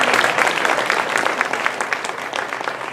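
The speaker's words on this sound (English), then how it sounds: "so give her a round of applause, guys." An audience claps enthusiastically at a coach testimonial event, a dense, loud burst of applause holding steady for a few seconds with no speech over it.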